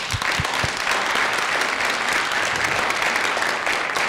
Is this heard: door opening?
no